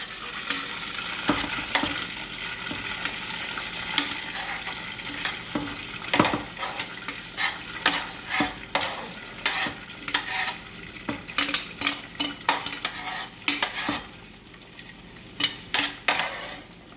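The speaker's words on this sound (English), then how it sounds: "now what we're about to do is we're about to add the sausage" Sausage frying in a pan for seafood egg rolls, a steady sizzle running under frequent scraping and clinking as a utensil stirs and turns the pieces, close by and moderately loud, no talking.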